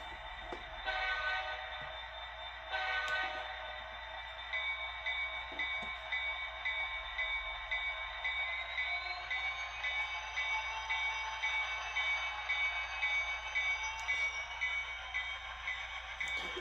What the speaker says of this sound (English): So let's see how this thing runs around the track.